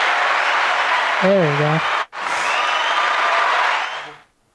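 A canned applause sound effect dropped into a podcast: a broad, steady wash of crowd clapping that runs for several seconds, briefly cut, then resumes and stops abruptly, with a short spoken remark over it.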